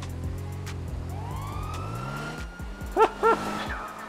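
Police car sirens wail and rise in GTA 5, a siren sweeping upward and holding steady over the drone of a nearby car engine, with a couple of short horn-like blips near the end.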